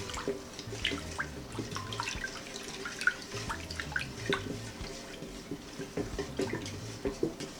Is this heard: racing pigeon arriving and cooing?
no